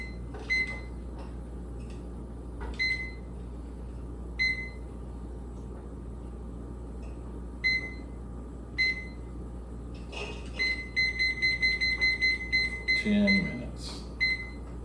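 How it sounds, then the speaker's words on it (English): A kitchen timer is set for a beer-brewing steep, giving a series of short, sharp electronic beeps spaced across the clip and then a rapid run of beeps near the end, over a low steady hum with some talking. "let's set our timer"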